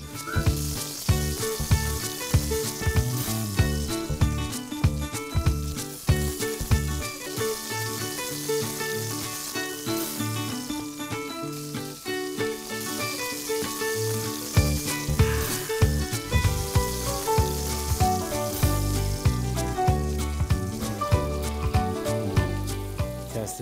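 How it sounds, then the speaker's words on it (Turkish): Chicken meatballs shallow-fry in hot oil in a pan, giving a continuous, busy crackle and sizzle with frequent sharp pops throughout. "Sığ yağda kızartacağım."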